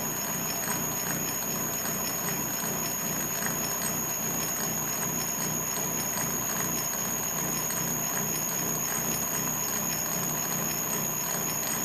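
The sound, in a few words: milling cutter hobbing a helical gear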